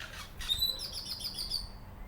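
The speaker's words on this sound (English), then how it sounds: "that was a blackbird up there in the tree" A blackbird calls from a tree in a South Texas garden, a few thin high chirps and whistles over soft outdoor background noise, with no talking.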